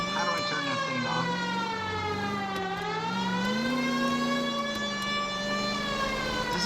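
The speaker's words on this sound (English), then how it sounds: "Why did the siren come on?" A police car siren in the L.A. Noire video game wails steadily and loudly, its pitch slowly sweeping up and down over a low engine rumble with no pauses.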